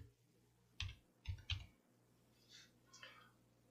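A few sharp keystrokes on a computer keyboard, close and quiet, come in a short irregular cluster followed by softer taps, with no talk over them.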